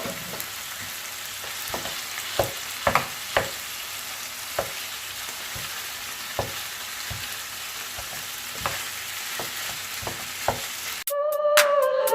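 Minced meat for homemade tacos sizzles in a pan with a steady hiss and scattered sharp pops and stir clicks, close and uninterrupted until an abrupt change near the end, with no talking.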